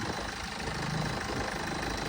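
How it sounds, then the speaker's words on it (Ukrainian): A BMW F11 engine idles smoothly during a technical inspection, a steady close-up rumble with an even low hum and no breaks or revving. "Двигун працює м'яко"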